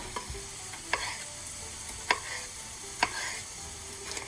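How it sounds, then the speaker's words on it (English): Onions sizzle steadily in a hot frying pan, with a few sharp scrapes of a stirring utensil against the pan. "You see the onions, they start sizzling"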